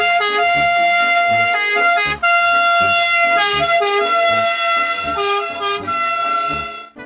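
A toy ambulance car's siren wails in bright electronic tones, cycling through a looping melody with a short break midway, loud and close with no talking.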